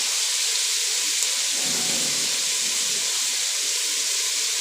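Potatoes and mushrooms sautéing in a pan, a steady broad sizzling hiss that stays loud and even throughout, with no talk.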